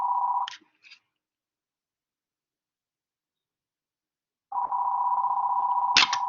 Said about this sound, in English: Sorry about that phone ringing.